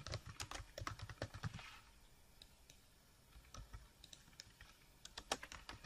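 Typing on a computer keyboard, quick close clicks in bursts with a short quiet pause in the middle, faint and with no speech.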